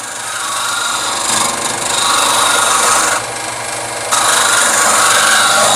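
Skew chisel cutting a spinning wood blank on a lathe, giving a steady, close, loud rasping scrape that shifts in texture partway through, with no talking.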